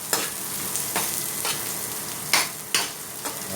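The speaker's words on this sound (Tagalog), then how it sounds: "para magisa po yung sibuyas" Onions sauté in a hot pan for rice porridge, a steady close sizzle broken by several scraping stirs of a spatula, with no talking.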